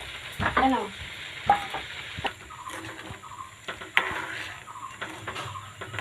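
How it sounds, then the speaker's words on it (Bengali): A pot of milk and sugar being stirred, with soft scraping and clinking of the spoon against the pot over a faint simmering sizzle, in irregular close strokes. "এতে একটু নাড়া দিতে হবে।"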